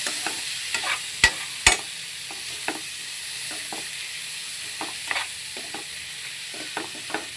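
Chicken curry simmering in a pan as large tomatoes are tipped in, with a steady soft sizzle broken by a few sharp clinks and scraping stirs, close and without any voices.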